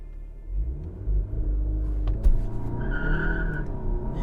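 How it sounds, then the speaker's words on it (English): A Golf 7 GTI TCR launches hard with traction control off, its engine rumbling loud and close as the wheels spin and the tyres squeal, the revs climbing steadily through the run with no talking. "So let's go through launch control."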